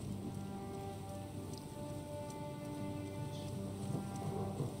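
Steady rain falling in the video game Gloria Victis, a continuous soft patter and wash of drops on surfaces, even and moderately quiet throughout with faint low rumbling underneath and no speech.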